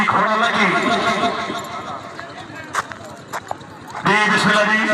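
Horse hooves clip-clop at a tent pegging event in Pakistan, a run of rhythmic hoofbeats heard under a loud announcer's continuous commentary, with a brief lull before the voice returns.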